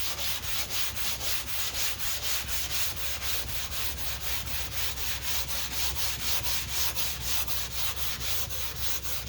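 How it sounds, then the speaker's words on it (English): 2K primer on a car body line is hand-sanded in steady back-and-forth strokes, giving a close, even rasping rub that repeats at a regular pace with no voices. "Don't want to just sand in one spot, want to do the whole thing."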